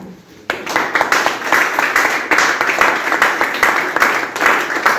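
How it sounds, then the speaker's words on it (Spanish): A youth church service congregation breaks into applause after a sermon on the Book of Judges: after a brief quiet moment, loud, full clapping fills the room and holds steady to the end. "Hermanos, qué bendición, de verdad, regalamos nuestro aplauso."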